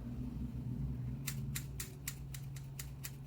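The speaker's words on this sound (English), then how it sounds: "Let's just use the scissors." Scissors snipping at the hair of a wig in a series of about nine crisp, close cuts in an uneven rhythm, heard alone over a low steady hum.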